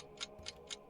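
A ticking timer in a fantasy tabletop game session, three soft regular ticks evenly spaced in under a second over a faint steady background hum.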